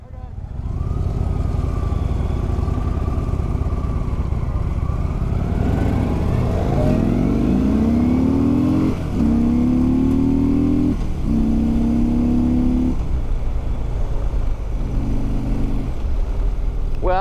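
A 2016 Harley-Davidson with a 103 cubic inch V-twin pulls away in a street race, its loud rumbling engine rising through several revving gear pulls with brief dips between shifts, close and powerful.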